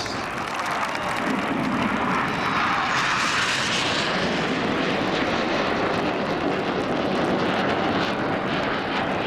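RAF Red Arrows jets perform a flying display at Airwaves Portrush 2014, their roar loud and continuous overhead with a swelling, sweeping tone as the aircraft pass.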